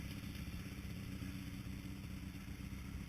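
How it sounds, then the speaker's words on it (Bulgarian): A Yamaha Super Tenere two-cylinder motorcycle idles with a low, steady rumbling throb, fairly faint and unchanging throughout, with no voices. "участникът ни с Yamaha Super Tenere, 2 цилиндъра"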